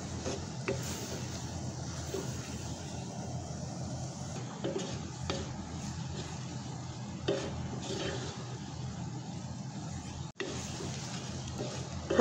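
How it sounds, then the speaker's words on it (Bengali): Chepa shutki dried fish fries in oil in a pan for bhorta while a spoon stirs it, giving a soft continuous sizzle broken by scraping knocks and clinks against the pot, heard close up. "কিছুক্ষণ ভাজা ভাজা করব"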